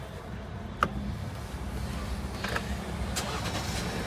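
A Jeep Rubicon engine is started with its push button; a brief click is followed by the engine catching and settling into a quiet, steady idle.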